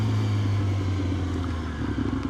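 A Yamaha R6 motorcycle engine runs steadily nearby, a loud, continuous low droning hum with a slight rattle and no clear revving.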